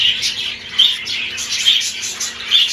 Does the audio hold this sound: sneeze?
no